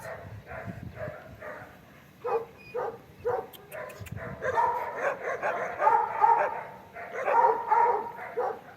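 A guard dog barks in short repeated bursts during obedience and protection training, loud and close, with yips and whimpers between barks and no talk over it.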